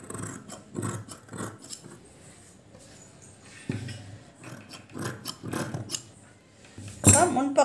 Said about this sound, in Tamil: பின் போட்டுட்டு அப்படியே இது மேலே அப்படியே நான் கட் பண்ண போகிறேன்.